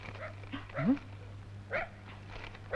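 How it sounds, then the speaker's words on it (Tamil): A detective dog gives a few short barks and yips, scattered and moderately close over a steady low hum, with a faint voice in the background. "துப்பரியம் நாய் சீசர் கொலையாளியை கண்டுபிடிக்க மதுரையிலிருந்து விரைந்து வருகிறது"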